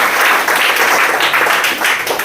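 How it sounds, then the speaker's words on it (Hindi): An audience at a business seminar breaks into loud, dense clapping that stays steady and close throughout. "एक जोरदार ताली आप लोग के लिए।"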